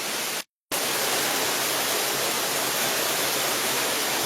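Waterfall cascades in the Babor Atlas mountains of Jijel, swollen by snowmelt, pour in a loud, steady broadband roar close by, broken only by a brief dropout near the start.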